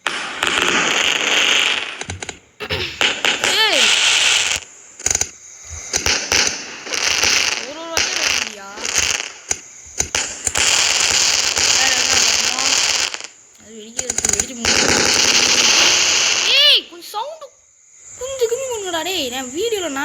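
Firecrackers going off in a Diwali fireworks video game: bursts of crackling pops and whistling rockets come in loud clusters separated by short silences, with game sound effects throughout.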